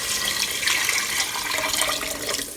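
Water pours into a soup pot for Chinese cabbage soup, a steady splashing rush with a bright running-water hiss that holds for a couple of seconds, close and fairly loud, with no talking.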